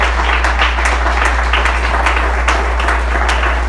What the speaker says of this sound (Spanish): Si va a aplaudir, aplauda.